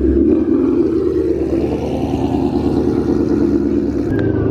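A Toyota Supra passes during late-night street racing, its engine droning steadily and loudly as it goes by, blended with the surrounding road noise of other cars.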